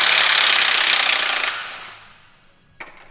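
A power tool works loose a flywheel with a harsh, loud buzzing rattle for about a second and a half, then winds down, followed by a single sharp metallic knock.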